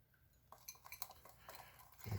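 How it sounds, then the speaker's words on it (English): A utensil stirring icing mixed with milk in a bowl, with soft scraping and faint clinks against the bowl, close and quiet, growing a little busier toward the end. "So now I'm just going to mix until smooth."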